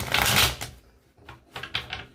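Tarot cards are shuffled up close: a long riffling burst, a brief pause, then several shorter flicking riffles in quick succession.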